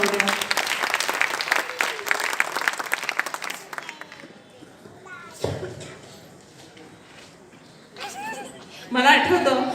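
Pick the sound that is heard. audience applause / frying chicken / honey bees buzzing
audience applause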